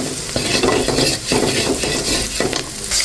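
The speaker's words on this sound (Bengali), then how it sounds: "এখন আমি ডিমটা একটু ভেজে নিচ্ছি।" An egg fries with okra in a pan without added oil, a spatula stirring and scraping against the pan in repeated strokes over a continuous close sizzle.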